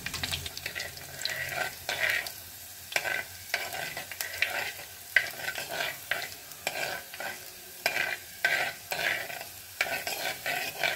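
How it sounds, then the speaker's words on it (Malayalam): Two chopped shallots and green chillies fry in a pan after mustard seeds are popped, with a spatula stirring in a rhythmic scraping pattern over a steady close sizzle. "നമ്മൾ കടുകൊന്ന് ജസ്റ്റ് പൊട്ടിക്കളയുമ്പം ചെളിയുള്ളി രണ്ടെണ്ണം അരിഞ്ഞതിട്ട് പച്ചമുളക് വിട്ടിട്ട് നല്ലതായിട്ടൊന്ന് ഇളക്കി"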